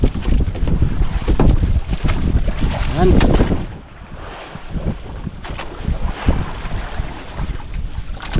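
Strong wind buffets the microphone in loud gusts over water and boat noise, easing briefly midway before surging again, with a short spoken word.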